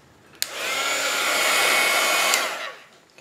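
A hair dryer blows hot air over freshly painted work, switching on with a click and running as a steady, close, loud whoosh for about two seconds before cutting off and winding down.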